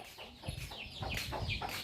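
A chicken clucks close by in a short burst of repeated calls on a village farm in rural Thailand, with faint background noise and no speech.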